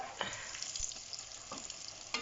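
Beignet batter frying in hot oil, a faint crackling sizzle with scattered small pops and spits.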